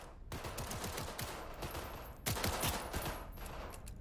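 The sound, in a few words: gunfire at a shooting target in a video game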